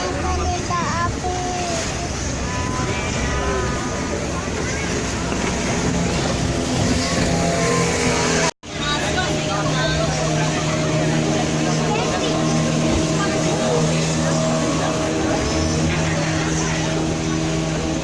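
A boat ride at Gembira Loka Zoo in Yogyakarta, with a steady hum and rush of water and wind across the whole stretch, broken by a brief cut partway through.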